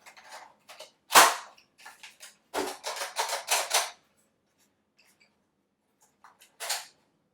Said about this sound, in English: you can actually kind of see inside the chamber the darts being loaded up